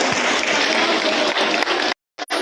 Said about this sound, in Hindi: भाई आप लोग ताली बजाकर थोड़ा हौसला बढ़ा दीजिए।